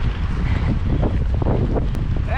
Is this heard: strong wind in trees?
yes